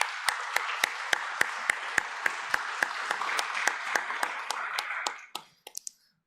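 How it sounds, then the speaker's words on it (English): A small group claps in a brisk, evenly spaced rhythm for a newly elected secretary at a youth congress session, the crisp claps close and steady before tapering into a few final scattered claps. "Let's give her a round of applause."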